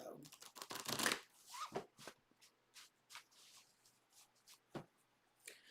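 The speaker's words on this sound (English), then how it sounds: "One good shuffle for the Scorpio." Tarot cards being riffled and shuffled in quick bursts, a flurry at first then lighter scattered flicks, close and fairly quiet with no talking.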